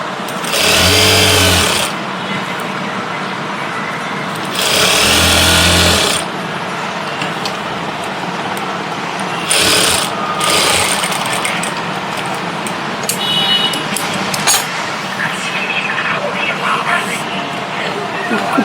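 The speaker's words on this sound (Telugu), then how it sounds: "ఇలా పెట్టేసుకొని ఇలా పైపింగ్ అనేది నీట్గా కుట్టుకోవాలి." Sewing machine stitching piping onto a heavy maggam work blouse runs in three loud, close bursts of rapid whirring, with someone talking in the quieter gaps between runs.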